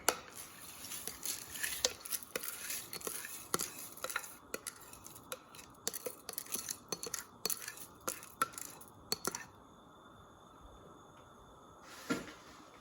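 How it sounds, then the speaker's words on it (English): Dry lentils poured into a soup pot, with a patter of small hard clicks and rattles that comes in uneven bursts and stops near the end, quiet and close with no talking. "And now I'm going to add the star ingredient, which is our lentils."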